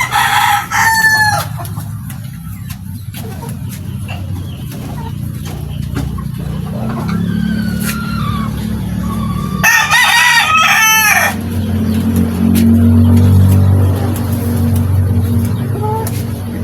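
A bulik gamefowl rooster crows twice in long drawn calls near the microphone in a backyard farm, with a passing car rumbling and some background activity between crows.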